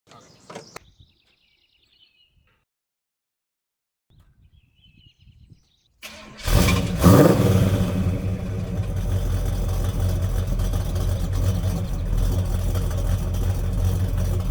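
After near silence with faint birds, a 1970 Pontiac Firebird engine cranks and roars to life at about six seconds, then settles into a loud, rumbling idle close by.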